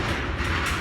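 A train rumbles and clanks steadily nearby on the riverfront in Montgomery, Alabama, a dense metallic rattle with no pauses.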